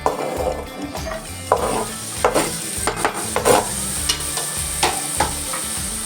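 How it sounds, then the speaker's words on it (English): Butter and chopped garlic sizzling in a pan for a barbecue chicken sauce, a steady close frying hiss broken by repeated clinks and scrapes of stirring, with no talk. "So for the sauce, butter in, garlic that we chopped,"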